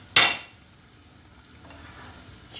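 Pişi, a Turkish yeast dough, frying in hot oil: a sharp sizzling splash as it hits the oil, then a quieter, steady frying hiss, with a faint clink near the end.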